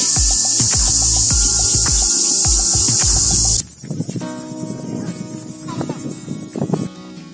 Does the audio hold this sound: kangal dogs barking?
no